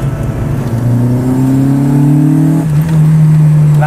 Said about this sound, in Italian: questo suono nell'abitacolo, di scricchiolio, di suono intake, come si dice, no? Che viene dal motore.